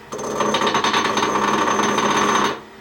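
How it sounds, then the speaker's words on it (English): A steady, rattling buzz of a chisel chattering and bouncing against an out-of-round workpiece spinning on a lathe, loud and continuous for a couple of seconds before stopping abruptly. "place the back of your chisel on top of your piece while it's spinning"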